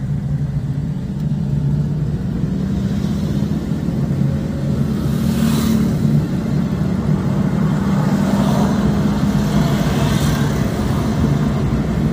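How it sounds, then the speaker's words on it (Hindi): An engine hums steadily from inside a car pulling away gently in first gear during a driving lesson, a continuous low rumble that swells slightly with mild acceleration. "अब आप हल्का हल्का एक्सीलेट करो"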